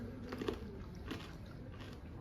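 Crispy, crunchy fish skin is bitten into, with a couple of short crunches near the start and another around the middle, close and fairly quiet over a soft room background.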